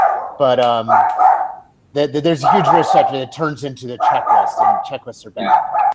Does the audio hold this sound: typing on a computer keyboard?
no